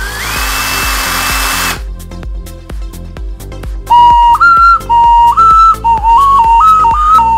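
A power drill bores finger holes in a carrot to make a whistle, whining briefly at first, followed by a bright tuned whistle playing a wavering series of pitched notes over steady rhythmic background clicks.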